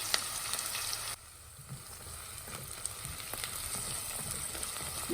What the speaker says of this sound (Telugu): చూడండి ఆనియన్స్ వేగుతున్నాయి చక్కగా గోల్డెన్ బ్రౌన్ వచ్చే వరకు వేయించుకున్నాము